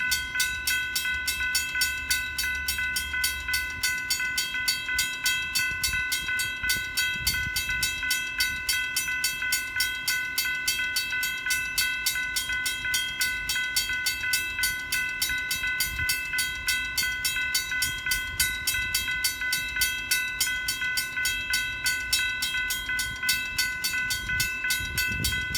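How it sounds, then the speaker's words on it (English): Norfolk Southern freight train 5302, inbound from Winslow, New Jersey, rolls past close by with a steady loud rumble and a continuous high tonal whine, cars rattling along through the whole stretch, no voices. "this is Norfolk Southern 5302 coming back from Winslow, New Jersey"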